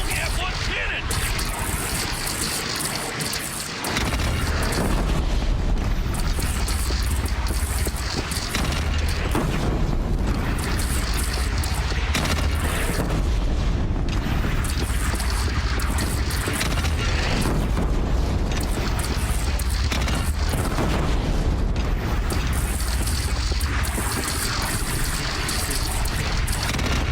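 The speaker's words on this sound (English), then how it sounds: "You only have one cannon!" Cannon fire and explosions in the video game Horizon Zero Dawn, heard as loud, sustained low booming and rumble filling most of the clip, with a sudden surge after a few seconds and voices talking over the din.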